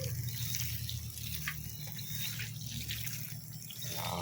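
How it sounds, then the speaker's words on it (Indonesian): Water poured over soil in a chili pepper plot, a steady splashing trickle with light dripping over a low background hum, fairly quiet and close. "Kita siram seperti ini"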